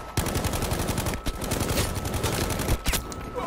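Sniper rifles and other guns fire in a Battlefield V battle, a loud, dense stretch of overlapping shots with sharp cracks standing out near the start and end, and no talking.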